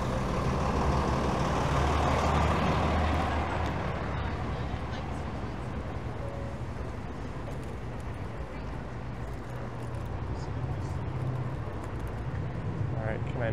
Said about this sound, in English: What's this beer store truck doing?